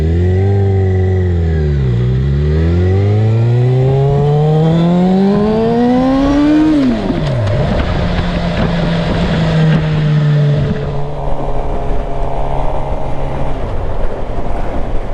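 Motorcycle engine revving up and down as the bike rides along a road past a park, loud and steady with rising and falling pitch throughout, no talk.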